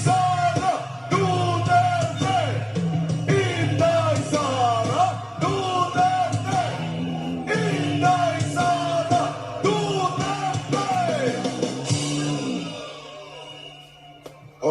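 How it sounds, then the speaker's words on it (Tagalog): A large crowd at a political rally in the Philippines repeatedly shouts a chant in loud, rhythmic bursts, then fades out near the end. "Anong sigaw ng bayan?"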